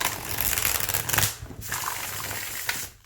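Baba Studio tarot cards with thick card stock being shuffled by hand, a steady papery riffling close up that runs in two quick bursts with a short pause between, no talking.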